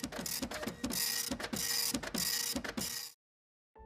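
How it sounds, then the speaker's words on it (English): Prusa i3 MK2 3D printer at work, close stepper motors whirring and buzzing in rapid pulsing bursts that shift in pitch, continuous for about three seconds before cutting to silence. "I pop them into the printer, choose the file, and then I just let it run"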